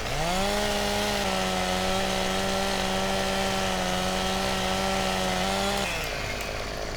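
A chainsaw in Farming Simulator 17 cuts trees, its steady high-revving drone holding loud and unbroken for several seconds before the engine drops back toward idle; no talking over it.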